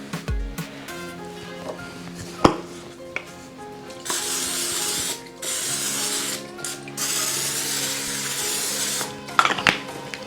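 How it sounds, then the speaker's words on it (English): Cooking spray hisses onto silicone egg bite molds in short loud bursts, several separate sprays broken up by clatter and handling noise from the kitchen counter. "Now we're gonna spray our silicone egg bite molds"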